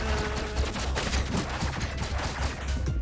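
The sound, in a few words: flame cannon firing in video game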